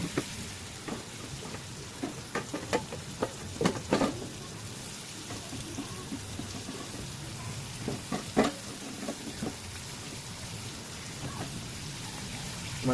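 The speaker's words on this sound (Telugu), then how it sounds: "ఆయిల్ పోసుకొని ఇప్పుడు మనం తరిగి పెట్టుకున్న క్యాబేజీ, టమాటా అన్నీ ఏం తరిగి పెట్టుకున్నాం అన్నీ వేసేయాలి" Chopped cabbage and tomato sizzling in hot oil in a pan for egg noodles, a steady soft crackle with scattered sharper pops and spits, fairly quiet and close, with no talking.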